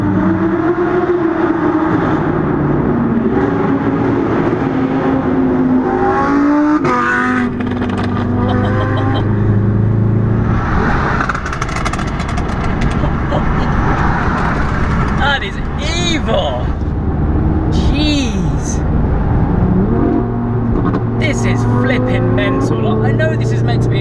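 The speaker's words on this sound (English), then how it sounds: "we got that incredibly loud Huracan" A Lamborghini Huracan in a supercar convoy roars with loud, sustained engine revving, rising and falling sharply with crackling bursts, very close and dominating throughout, while excited voices shout over it.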